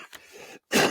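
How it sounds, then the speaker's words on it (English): Short throat-clearing cough from a man recovering from COVID, a couple of soft rasps followed by a brief pause and one louder, sharper burst, close and alone. "Still coughing up a storm a little bit."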